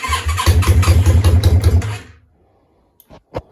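A Yamaha Virago 535 motorcycle engine, with its front cylinder firing, cranks and runs in loud, rapid rhythmic pulses for about two seconds, then cuts out, leaving quiet and a few faint clicks.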